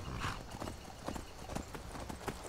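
Horse hooves clip-clopping in the Skyrim video game, a rapid, even rhythm of close, crisp hoofbeats over a light ambient background, with no talking.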